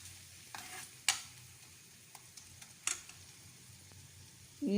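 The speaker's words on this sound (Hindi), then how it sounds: "मिक्स कर हल्का सा भूनें।" Garlic fries softly in a pan, a faint low sizzle punctuated by a few sharp spatula taps and scrapes against the metal during stirring; quiet, close and without voices.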